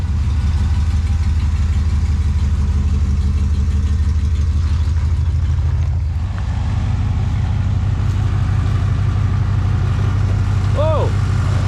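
A 1957 Chevrolet Bel Air engine idles loudly and steadily with its muffler reattached, a deep, constant rumble that shifts slightly in tone midway.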